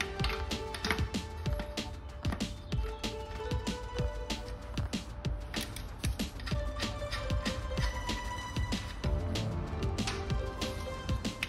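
A ratchet with a 24 mm socket clicks rapidly as it loosens the wheel nut on an electric scooter, a close, steady run of sharp ratcheting clicks with brief pauses.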